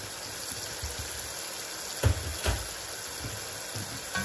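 Chopped garlic hitting a hot pan for Thai-style meat: a constant hissing sizzle with a couple of sharp clinks and scrapes of a utensil partway through, close and moderately loud, no talking.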